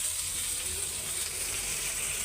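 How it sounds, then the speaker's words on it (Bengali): Chicken pieces frying hard in a pan of hot oil, a steady, even sizzle with fine crackling, continuous and close with no talk. "মুরগিটা একটু লাল লাল করে ভাইজা নিতেছি কড়া করে ভাজা দিয়ে"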